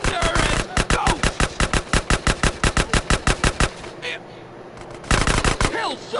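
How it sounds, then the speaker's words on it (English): Rapid automatic gunfire in the video game GTA, a loud close burst of evenly spaced shots for several seconds, a short pause, then another burst. "That was a sniper bullet!"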